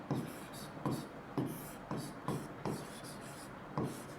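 Pen or pencil writing a math solution by hand on paper, a series of short scratchy strokes repeating every half second or so, close and fairly quiet, with no speech.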